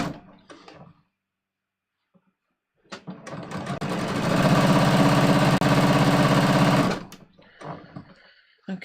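Sewing machine stitching a jeans waistband, starting with a few brief stitches, then a steady loud whirring run of about three seconds before it stops, close up, with a voice speaking before and after.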